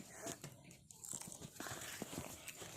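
Close, crunchy bites and chewing of spicy Thai papaya salad, a few irregular crisp crunches over quiet room sound.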